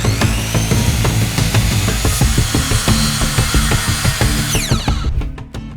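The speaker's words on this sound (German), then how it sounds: "Diese Platte schneiden wir uns erstmal auf das benötigte Format zu" A power saw cuts through a 12 mm film-faced plywood board. It makes a loud, continuous, rasping cut with a steady motor drone that ends near the finish.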